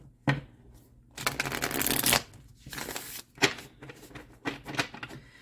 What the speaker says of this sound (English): I'm going to go ahead and shuffle and see what falls out here.